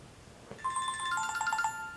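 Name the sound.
mobile phone ringing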